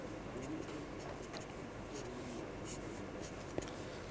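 Wood-plank textures are drawn onto paper in quick, light scratchy strokes, quiet and close, with one small tap near the end and no speech.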